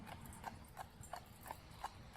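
A horse pulling a carriage slowly along a road clops at an even, unhurried pace, with six or so hoof strikes ringing out fairly faintly at a steady walking rhythm.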